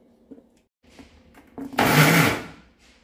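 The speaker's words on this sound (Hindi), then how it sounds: "अब इसे मैं ग्राइंडर में पल्स मोड पर पीसूंगी।" A mixer grinder grinds soaked, drained cashews on pulse mode in a short, loud burst of about a second after some faint clatter, then stops.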